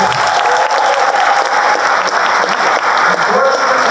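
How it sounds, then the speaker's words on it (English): Loud, steady applause from a large audience at a political speech in Vancouver fills the whole stretch, dense clapping with no pauses. "Unfortunately, yes, you can applaud that."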